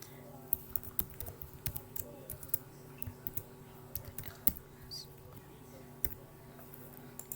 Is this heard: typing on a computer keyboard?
yes